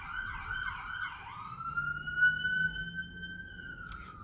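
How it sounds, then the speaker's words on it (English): An ambulance siren wails nearby, starting with a rapid warbling yelp and then settling into a long, steady high wail, with traffic rumbling underneath. "There's an ambulance. We do get a lot of sirens through here."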